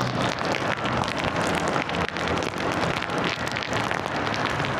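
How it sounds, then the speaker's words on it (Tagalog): Heavy rain in the Philippines on the road from Navotas to Sariaya, Quezon, a dense, steady hiss of drops pelting a surface, loud and continuous with no voices. "At lalong lumakas ang ulan."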